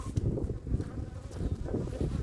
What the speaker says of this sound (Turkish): Kıştan çıktı arılar.